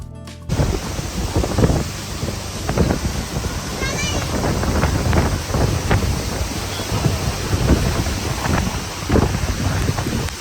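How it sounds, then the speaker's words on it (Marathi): Rushing floodwater roars steadily beside a closed road on a rainy, misty outing near Bhandardara, Akole, with wind buffeting the microphone and people talking over the continuous wash of water. "पाण्याचा आवाज तुम्हाला येत असेल पलीकडं पूर्ण पाणी आहे"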